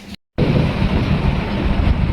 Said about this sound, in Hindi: बादलों की आवाज़ आप लोग सुन सकते हो।